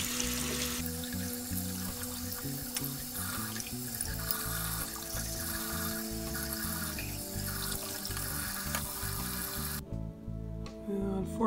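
Tap water runs steadily over laser-etched glass as water-soluble marker spray is rinsed off, a continuous close faucet stream with small splashes and shifts as the glass is rubbed, cutting out near the end.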